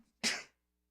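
A single sharp human sneeze bursts out close to the microphone, loud and abrupt, lasting a fraction of a second before silence returns.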